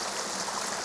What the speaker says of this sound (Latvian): Šis ūdens kritums ir pilns ar kompozīcijām. Ir tādas vairākas kaskādītes